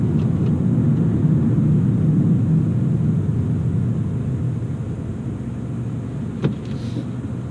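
A 2018 Toyota Camry SE cruises along, its engine and road noise forming a steady low rumble that eases slightly toward the end, with a single faint click near the close.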